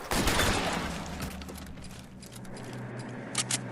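Shotgun blasts and gunfire in the video game L.A. Noire, a loud burst of shots up front that decays into a lingering rumble, with another sharp report near the end.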